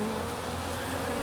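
Honey bees humming inside a hive during an inspection, a dense, steady buzzing drone filling the space up close, with no speech.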